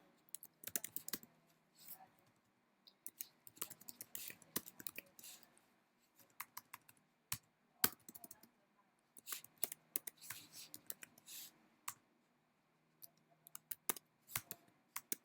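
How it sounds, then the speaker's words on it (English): Quiet, irregular keyboard typing, bursts of soft key clicks with brief pauses between, close and faint, with no talking. "gonna type something else"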